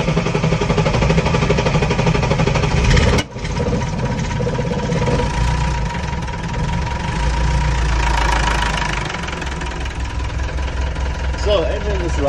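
A 1979 Mercedes-Benz LP709 truck's 4-litre OM314 diesel, cold-started at 0°C, runs with a steady, loud, rough idle and a heavy low rumble and knock, briefly dipping early on before settling back into a continuous drone.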